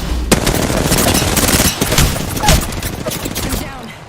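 Rapid automatic gunfire in a first-person shooter video game, loud dense bursts of shots crackling nearly nonstop, with a player's voice briefly under the firing.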